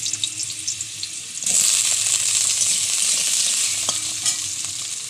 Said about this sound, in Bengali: কেটে রাখা ডুমো ডুমো আলু ভেজে নিচ্ছি।